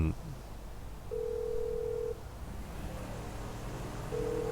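Phone call to Franklin in GTA Online, with steady electronic ringing tones on the line, two long beeps separated by a pause, over a low background hum.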